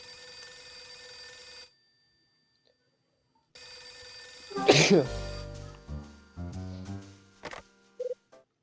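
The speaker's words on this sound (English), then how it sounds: "It's my phone again." A telephone rings in the video game Last Window: The Secret of Cape West, a steady electronic tone that stops, then resumes before a louder burst of game sound effects and musical tones.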